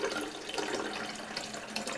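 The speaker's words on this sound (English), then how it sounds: "Pouring the water slowly, or pouring the coffee out of the pot, more accurately." Water poured slowly into a 2005 Mr. Coffee ESX10 10-cup coffee maker, a steady soft splashing trickle close up for a couple of seconds, with no voices.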